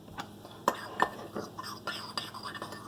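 Dried herbs and spices, including thyme, get mixed into a rub with a utensil, giving light, irregular clinks and scrapes against a bowl, fairly close, with soft whispery noise underneath.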